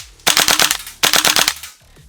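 A WE AK74 airsoft gas blowback rifle fires two loud, close bursts on full auto, each a rapid string of about six sharp cracking shots, with a short pause between them.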